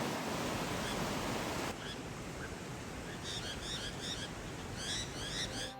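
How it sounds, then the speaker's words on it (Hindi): The Saryu river flows in a quiet hiss of running water, faint and steady, with chirping birds or insects joining in the later seconds. "ये सामने जो आप ये नदी देख रहे हैं, ये है सरयू रिवर"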